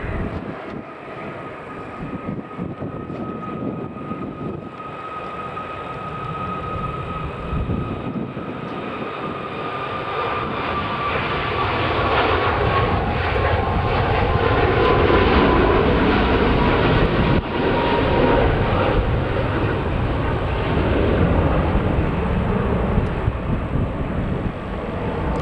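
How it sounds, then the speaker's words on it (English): An Icelandair Boeing 737 MAX 8 taking off from Manchester Airport, bound for Reykjavik: a broad jet roar that builds steadily and holds loud and sustained, with a faint high engine whine drifting through it and no speech. "What's taking off next then is an Icelandair 737 MAX 8 going to Reykjavik."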